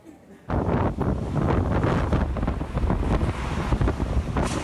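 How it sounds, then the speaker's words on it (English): Typhoon Mangkhut's strong wind gusts roar and buffet the microphone continuously in south China, a harsh rushing blast that starts abruptly and never lets up. "gusts of wind ripping through everything in their path"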